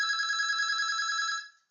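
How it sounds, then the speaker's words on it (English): A phone rings with a single steady electronic trill, loud and close, holding for over a second before cutting off abruptly into silence. "sorry, my phone is ringing"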